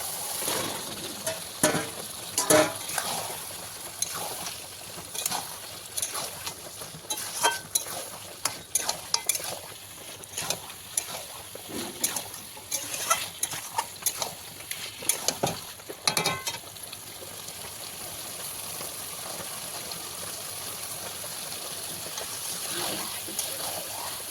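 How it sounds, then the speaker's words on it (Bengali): Mutton pieces added to fried spice masala, with oil separated, and stirred in a pan: repeated scraping stirs and a continuous sizzle, fairly close and fading to steady frying. "মশলা ভাজা হয়ে গেছে, তেল বেরিয়ে এসছে। এবার আমি দিয়ে দেবো মাটন।"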